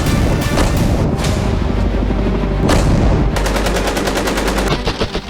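Heavy blasts and gunfire in war footage from Russia: dense, loud, continuous booms, with a rapid machine-gun-like string of shots toward the end and no voices.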